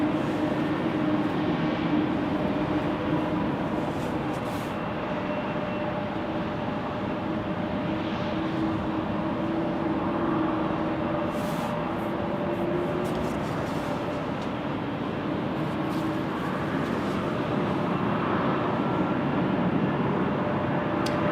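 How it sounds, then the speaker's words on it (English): An MD-11 airliner departing Salt Lake City airport gives a steady, distant jet roar that holds at an even level throughout, with a faint whining tone riding over the broad rumble. "Yep, MD-11 right there."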